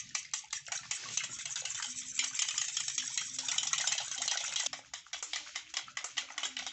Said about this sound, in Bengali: ডিম দিয়ে ভালো করে মিশিয়ে নিয়েছি